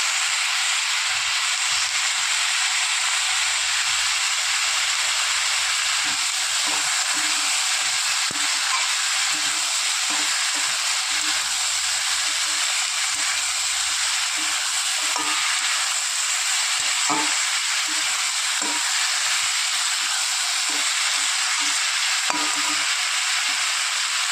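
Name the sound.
potatoes and spices frying in pan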